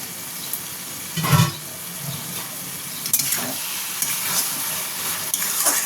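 Snake gourd cooking in a pan with a little water sizzles and bubbles steadily up close, with a spatula scraping and stirring through it and a few louder knocks and scrapes.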